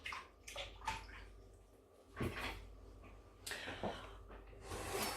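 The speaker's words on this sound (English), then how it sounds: "Let me just wash my hands." Running tap water splashes over hands at a kitchen sink while cooking a chilli beef stir fry, a steady rushing flow with a few louder surges and clunks, close and alone.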